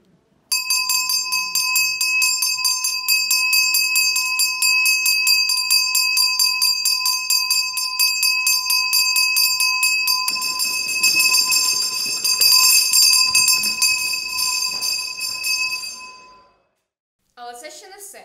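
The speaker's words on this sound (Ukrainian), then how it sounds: "разом з ними ви через мить почуєте свій останній шкільний дзвоник" An electric school bell rings loudly and continuously at a last-bell ceremony, a steady metallic clang lasting about sixteen seconds, with crowd noise swelling beneath it before it cuts off.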